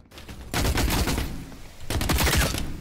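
Loud gunfire from The Cycle: Frontier during a PvP fight, with two dense bursts of rapid automatic shots separated by a short lull.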